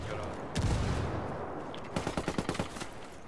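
Heavy gunfire erupts in a Ghost Recon Wildlands PvP match: a loud burst near the start, then a rapid string of sharp automatic shots, close and punchy.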